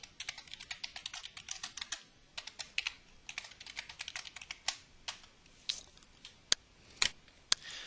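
Fast irregular clicking of typing on a computer keyboard, close and crisp, in bursts with brief pauses and a few sharper key strikes near the end.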